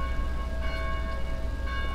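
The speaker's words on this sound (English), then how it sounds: "Silence these bells." Church bells ringing in a belfry in the Dead Island video game, a steady metallic ringing tone sustained throughout over a low rumbling background, with no talking.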